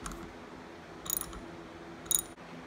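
A ratchet clicks in two short bursts while a bar end mirror bolt is snugged down on a Yamaha MT07 motorcycle handlebar, faint and close in a quiet space.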